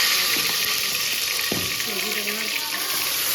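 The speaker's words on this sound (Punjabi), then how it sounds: "ਹੁਣ ਮੈਂ ਇਹਦੇ ਪਿਆਜ਼ ਪਾ ਕੇ ਪਿਆਜ਼ ਭੁੰਨਦੀ ਹਾਂ" Onions frying in a pan for a village-style kofta curry, a steady close hiss and sizzle filling the whole moment with a faint scrape partway through.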